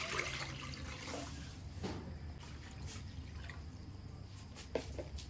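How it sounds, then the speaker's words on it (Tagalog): Water runs and trickles steadily into a cooking pot, two liters poured for boiling sago, a soft continuous pouring with faint drips, fairly quiet and close, with no voices. "Lalagyan natin to ng tubig na 2 liters."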